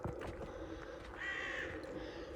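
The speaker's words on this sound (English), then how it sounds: "I can hear crows." Crows caw in a wildlife park in Weilburg, a few harsh calls ringing out at moderate distance over quiet outdoor ambience, one drawn-out caw standing clearest in the middle.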